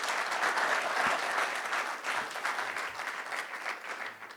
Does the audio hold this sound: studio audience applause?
yes